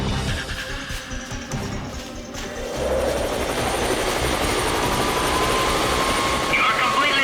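A police helicopter joins a large manhunt in Austria, its rotor thudding in a steady, loud drone that grows fuller partway through, with a voice speaking over it.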